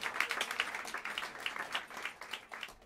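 A jazz club audience at Smalls in New York City gives a pianist a short round of applause, with dense clapping that rises and falls and no talking.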